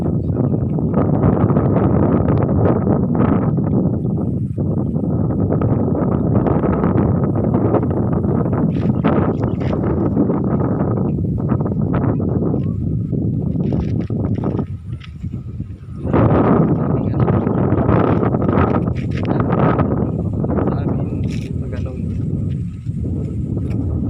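Wind blows steadily across an outdoor farm, buffeting the microphone with a loud, continuous rumble that dips briefly partway through, while people talk.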